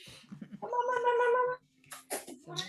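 A kitten gives a drawn-out wavering meow in the middle, lasting about a second, with a person speaking just before and after it indoors.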